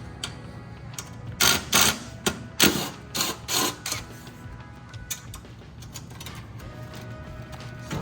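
A wrench undoes a 10mm bolt on the shipping crate of a Rosso eQuad P electric kids' ATV, giving a series of close ratcheting clicks and metallic taps in bursts, then quieter ticking.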